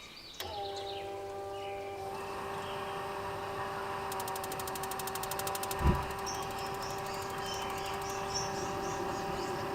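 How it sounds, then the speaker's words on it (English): A Truma AquaGo on-demand RV water heater running, its exhaust fan giving a steady tonal hum with a faint whirring rush underneath, heard up close and continuous, with a brief thump partway through. "So there's the exhaust fan that runs"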